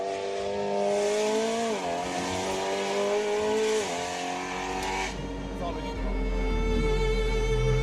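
A BMW E92 M3 pulls hard through several gears on a street, its engine rising in repeated loud sweeps with shift dips and a brief tire squeal.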